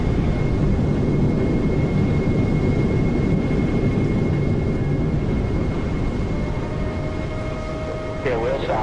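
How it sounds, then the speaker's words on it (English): An airplane lands in a PS4 flight game under a steady, loud roar of engine and airflow, with a thin tone holding throughout and a short chirping squeal near the end. "Good landing."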